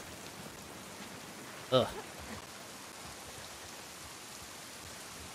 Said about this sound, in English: Yeah, it's fucking raining out.